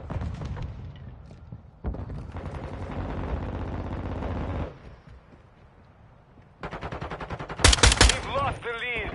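Marksman rifle gunfire in the video game Modern Warfare 2 rings out in several sustained bursts of rapid shots, loud and close, with a sharp blast near the end and game sounds between volleys.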